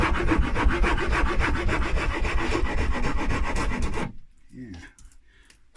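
Abrasive scuffing on the finish of an already-painted guitar body: steady, rhythmic back-and-forth rubbing strokes, close and loud for about four seconds, then stopping abruptly into near quiet.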